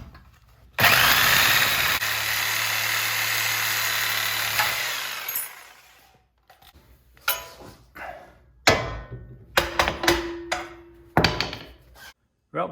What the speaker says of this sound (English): So getting the Sawzall out.